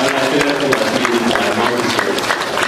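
A church congregation applauds in a steady, dense clatter of clapping that fills the room and holds at an even level from start to finish.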